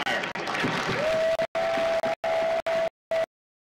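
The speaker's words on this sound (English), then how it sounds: "Round of applause for the families of the Empire" A crowd at a Marine Corps recruit graduation in San Diego applauds, with broad clapping and cheering, a steady tone running through it, then abrupt cut-outs and silence at the end.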